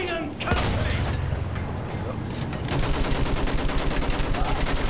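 Machine gun fire in the World War I shooter Battlefield 1: sustained rapid bursts that grow louder and more rhythmic partway through, mixed with heavy battle noise and voices speaking.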